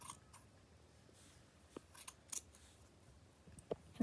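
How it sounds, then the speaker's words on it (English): Scissors snip through material being cut in half, several quiet, sharp clicks spaced irregularly over a faint background. "I need you to run the scissors inside and cut them in half"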